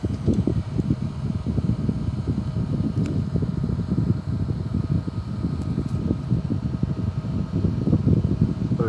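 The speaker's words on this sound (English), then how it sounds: "The fan is blowing up there as well." Steady broadband whir of a cooling fan blowing on a homemade filament extruder, a continuous near airflow rush with faint mechanical rustle and no speech.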